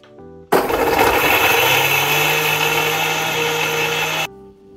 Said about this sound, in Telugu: ఒక 10 వెల్లుల్లి రెబ్బలు, ఒక 2 స్పూన్స్ కారపొడి, అలాగే ఒక స్పూన్ జీలకర్ర తీసుకొని మిక్సీలో వాటర్ వేయకుండా గరుకుగానే గ్రైండ్